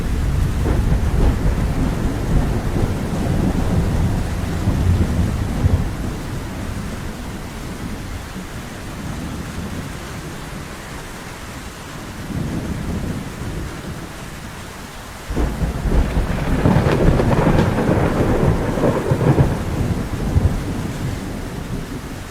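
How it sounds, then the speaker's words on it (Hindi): Heavy rain pours steadily in a jungle storm scene from a Hindi children's cartoon, with deep rumbling thunder rolling underneath and a louder burst of downpour near the end. "लगता है बहुत तेज बारिश होने वाली है।"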